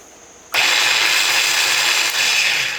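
A Granberg chainsaw sharpener, a small Dremel-style rotary grinder on a guide, switches on after half a second of quiet. It then runs with a steady high-pitched whine, close and loud, with a brief dip near the end.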